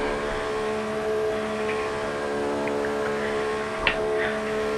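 Simulated Formula 1 race car engine from the F1 2014 video game at the Bahrain circuit, a steady high droning whine held at constant pitch as the car drives out, with a brief click near the end.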